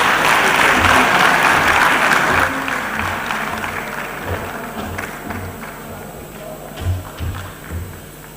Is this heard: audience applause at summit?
yes